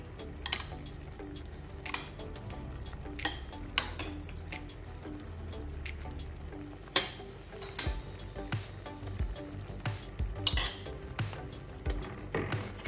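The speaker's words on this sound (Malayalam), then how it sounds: "ഇതിലോട്ട് ചേർത്ത് ചെറുപഴം നല്ലപോലെ ഈ സവാളയുടെ കൂടെ മിക്സായേ" Mashed banana is stirred into onions in a pan for an onion payasam, giving soft, irregular scraping and clinking of a spoon against the pan over a faint background hiss.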